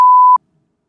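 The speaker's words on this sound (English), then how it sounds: "There's a beep left in from a previous episode." A single short electronic editing beep left over from an earlier podcast episode: one steady, clean mid-pitched tone lasting about a third of a second, loud and alone, followed by silence.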